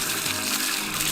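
Water gushes strongly out of a PVC pipe hand-made pump running without electric power, a dense, steady rushing spray mixed with air, loud and close, with no breaks and no talking.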